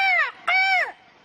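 A crow caws twice in quick succession, loud and close, each call a harsh, drawn-out rasp, then silence.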